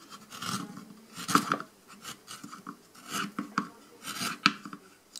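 Chisel scraping and carving decorative effects around the hole of a wooden pallet-wood candlestick, a series of short raspy strokes in uneven bursts, close up and alone.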